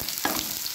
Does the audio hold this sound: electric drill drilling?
no